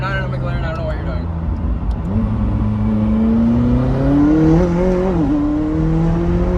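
McLaren 600LT supercar engine running close by, its pitch rising and wavering as it revs and pulls, loud and sustained, with people talking over it.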